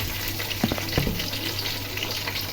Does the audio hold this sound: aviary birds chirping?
no